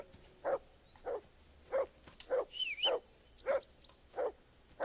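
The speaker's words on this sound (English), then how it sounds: "whistle at that mutt of yours to stop barking" A dog in the medieval game Kingdom Come: Deliverance 2 barks in a steady series of about eight sharp, evenly spaced woofs, close and clear, with a brief whine between barks and no talking.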